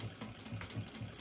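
A sewing machine stitching close along the edge of a zippered makeup bag, a quiet, rapid mechanical chatter with regular repeating thumps over a short burst.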